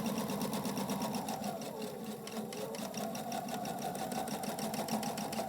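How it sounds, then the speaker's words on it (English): A sewing machine stitches a straight tapered dart in fabric, a continuous close, even whirring hum with rapid needle ticking, running alone without pause. "I'm going to backstitch. Then I'm going to continue down."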